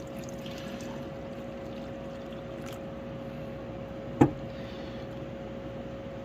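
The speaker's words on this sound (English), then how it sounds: "just doing a hot tap water rinse" Hot tap water running into a sink for rinsing silver scrap, a steady pouring trickle close by with a faint background hum and one sharp clink midway.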